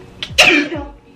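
A single sharp sneeze at close range, a quick inhaled build-up followed by a loud burst that trails off, heard during a Thanksgiving get-ready-with-me makeup session.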